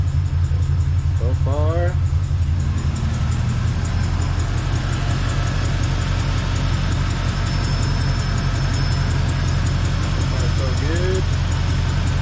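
A black Scrambler motorcycle engine runs at a steady idle, a close, continuous low rumble throughout, with a brief voice speaking over it.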